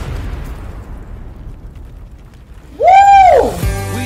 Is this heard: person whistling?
no